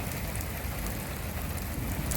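Rain falls steadily in a dense, even hiss of drops on surfaces, continuous and moderately loud with no pauses.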